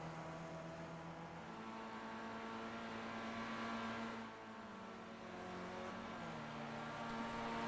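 A race car engine in a racing video game at Canadian Tire Motorsport Park holds a loud, steady on-throttle drone whose pitch shifts slightly as it runs, with no talk.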